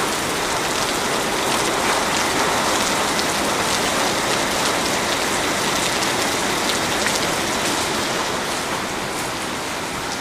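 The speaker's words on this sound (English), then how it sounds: "this is a rainstorm I have never witnessed before" Heavy tropical rainstorm in Costa Rica, a dense, steady roar of rain pounding surfaces that stays loud and unbroken throughout, with no voices.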